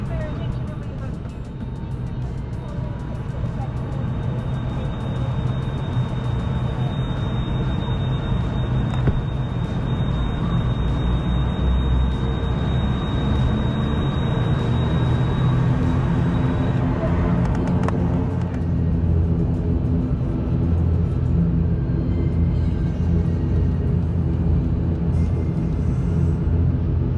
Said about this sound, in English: We taxied to runway 16 via Bravo, Bravo 5, Alpha and Alpha 1.